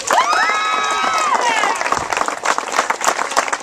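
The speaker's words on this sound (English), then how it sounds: "So let's give her a round of applause." A crowd applauds an assistant track and field coach at a record board unveiling, loud clapping with a rising whistle-like tone at first, then dense rapid claps continuing.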